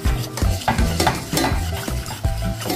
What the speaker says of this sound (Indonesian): Masaknya sambil diaduk